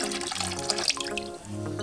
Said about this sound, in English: I'm going to put about 1/4 of mouthwash in there.